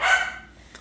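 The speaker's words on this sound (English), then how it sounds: "Can you, like, calm down your tone of bark? Not voice, bark." A dog gives one short, loud bark that fades quickly, followed by a faint tap near the end.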